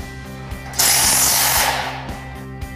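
Power tool driving a screw into a light gauge steel header of a wall frame, a close, loud sustained whir of about a second with faint clicks and knocks before and after.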